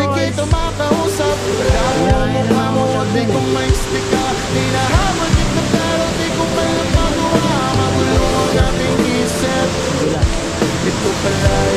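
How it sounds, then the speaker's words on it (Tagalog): Miyamit Falls in Porac, Pampanga roars in a loud continuous wash of falling water, with music playing over it throughout. "Iyanit Falls."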